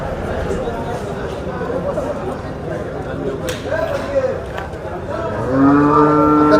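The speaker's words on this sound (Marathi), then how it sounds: "बघू शकता मित्रांनो, ही गाय आहे।" At a cattle market held at the old onion market in Niphad, a cow lets out a loud, drawn-out moo near the end. Crowd chatter and talking fill the background before it.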